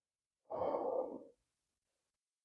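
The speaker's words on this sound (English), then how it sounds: "Couple more breaths here." A single slow breath out during a chair yoga session, a soft breathy exhale lasting under a second, close and quiet against silence, followed by a brief faint sound at the end.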